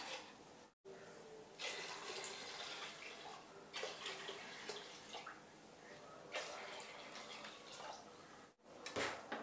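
A steady stream of water pours and splashes onto lentils in a metal pot, continuous and fairly close, with a brief break partway through and no talking.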